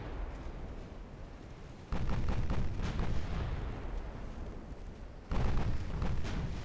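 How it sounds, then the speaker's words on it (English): 8-inch naval guns fire in the video game Ultimate Admiral Dreadnoughts, with two heavy booming salvos a few seconds apart, each followed by a long rumbling roll of distant gunfire and explosions. "This goes to show you how nightmarish 8-inch guns can be."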